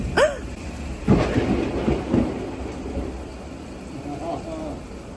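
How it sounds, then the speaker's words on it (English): Thunder during a rainstorm: several deep rolling rumbles crack and fade over a steady wash of rain, with a faint bit of background chatter. "The thunder has officially started."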